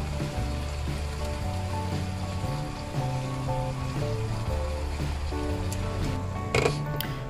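Red snapper head pieces sizzle in hot oil in a small pan, a steady close frying hiss running under background music throughout.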